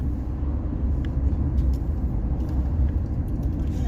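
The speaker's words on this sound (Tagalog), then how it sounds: "Traffic." Road traffic heard from inside a car on the drive to Cultus Lake, a steady low rumble of tires and engine with faint passing sounds, continuous and fairly close.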